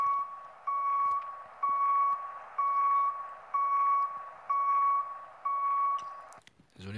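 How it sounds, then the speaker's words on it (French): A truck's reversing alarm in a truck driving simulator game beeps steadily, about one long tone per second, clear and electronic, stopping abruptly near the end. "Désolé pour le bip de recul."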